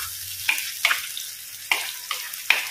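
Raw ground masala for a fish dish, made with long red chillies, frying in a pan: a steady close sizzling hiss broken by four or five sharp spatula scrapes at irregular intervals, with no talking.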